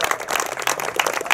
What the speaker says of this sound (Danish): Ja, I må godt klappe.